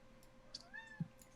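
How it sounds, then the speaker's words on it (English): A pet cat gives a single faint, rising-and-falling meow, quiet and close, over a low background hum. "My cat, y'all, is very upset."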